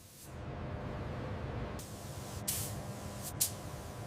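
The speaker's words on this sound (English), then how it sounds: "Cleaning dust, then spraying surfacer primer, full exterior." A spray gun hisses continuously and close by while spraying surfacer primer over the full exterior of a Grumman AF Guardian, with a couple of brief, sharper bursts of spray near the end.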